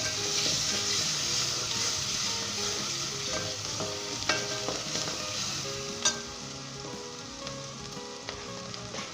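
A thick tomato masala sizzles and fries loudly in a pan while a spoon scrapes and stirs through it, with occasional sharper clinks.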